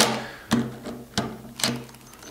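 Impact wrench lightly driving the cartridge bolts on a V10/V20 vane pump, heard as three short separate rattling bursts spaced about half a second apart over a steady low hum.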